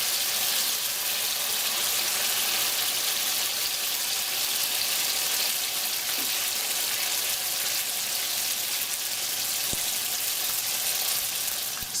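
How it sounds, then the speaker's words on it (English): Gimmari, seaweed rolls, deep frying in hot oil: a steady, even hiss and crackle holding at moderate volume for about twelve seconds, with no speech over it. "So you want to deep fry these for about a minute to a minute and a half on both sides until they're nice and crispy"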